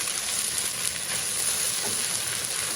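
Chives sizzle and hiss in a hot oiled wok while being stir-fried with a little salt, a steady close frying sound with faint stirring under it.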